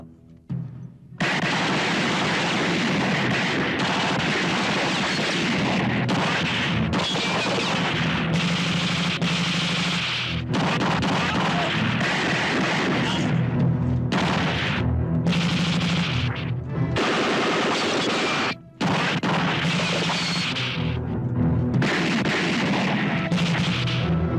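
Sustained gunfire from a Filipino action film shootout, loud, dense bursts of automatic and single shots crackling almost without pause, with brief gaps and an occasional heavier blast.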